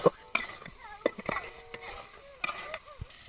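Flat beans (sim) stir-fried in a pan at an outdoor village picnic, with a spatula scraping and clinking in short irregular strokes over a faint sizzle.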